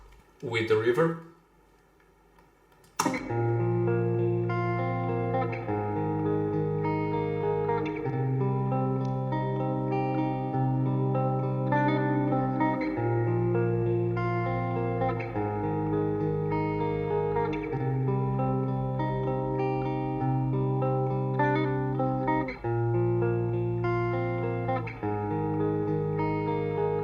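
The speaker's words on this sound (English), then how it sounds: "this reverb goes up and down, and to me it makes more interesting for guitars, a bit like a spring reverb" An electric guitar plays sustained chords through a Diesel VH4 amp with a modulated, spring-like reverb that swells and wavers, a loud steady wash following a short quieter intro.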